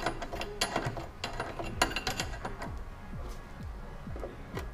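Ratcheting clicks and short metallic turns as a thermostat nut is tightened on an Anna PL41 or Anita PL042 appliance, close and fairly loud in quick irregular bursts that thin out toward the end.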